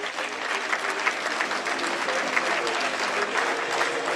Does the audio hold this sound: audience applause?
yes